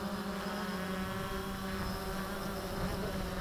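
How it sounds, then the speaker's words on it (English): An XK Detect X380 FPV quadcopter in flight outdoors, a steady, buzzing whine of spinning propellers at even loudness throughout, fairly close, with no talking. "And turning the quadcopter around."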